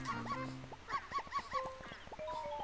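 A cartoon dog in the video game Yoshi's Story lets out a string of short, bouncy barks and yips in quick rhythm over light, tinkling game music, fairly quiet.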